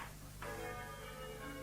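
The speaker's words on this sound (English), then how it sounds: "now the bloody bells have started" Church bells ring out in a radio production of John Osborne's play, a sudden burst of layered, resonant bell tones that begins partway in and sustains with a bright, clanging shimmer.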